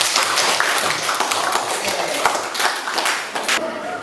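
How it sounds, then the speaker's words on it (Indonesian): A classroom of students claps together in a dense, lively round of applause that runs steadily for several seconds, close and fairly loud, with a few voices mixed in. "Tepuk tangan."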